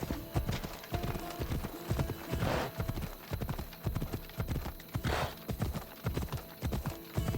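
Horse hooves in the video game Assassin's Creed Odyssey, a quick rhythmic clip-clop at riding pace, close and clear, with a couple of brief whooshing swells.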